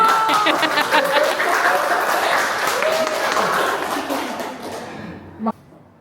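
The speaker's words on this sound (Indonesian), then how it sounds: "Tepuk tangan dulu." An audience at a labour union preparation meeting gives a burst of applause that holds steady, then fades, with chatter and light laughter mixed in.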